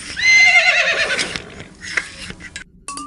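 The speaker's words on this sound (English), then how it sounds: "Three horses." Loud, shrill horse whinny from the PC game I Spy: Spooky Mansion Deluxe, falling in pitch over about a second, then trailing into scattered hoof clops and a brief chime-like tone.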